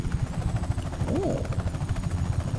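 An aircraft in the video game Just Cause 3 with a steady rhythmic thumping drone, loud and close throughout, with a brief rising whine in the middle and no talking.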